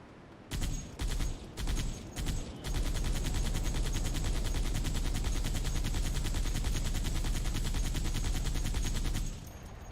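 Gunfire in the video game Halo 3: a few short bursts, then a long, steady, loud automatic stream that runs for about seven seconds before it stops abruptly.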